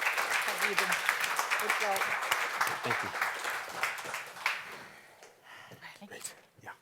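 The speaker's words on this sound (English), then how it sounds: "a warm round of applause for our panelists" An audience at a lung cancer conference panel applauds the panelists with steady, full-room clapping that thins out after about five seconds, while a voice speaks over it.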